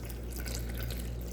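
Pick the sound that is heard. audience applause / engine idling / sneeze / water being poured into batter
water being poured into batter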